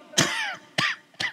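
A man coughs three times in quick succession during a religious talk, each cough a sharp, close burst with short pauses between.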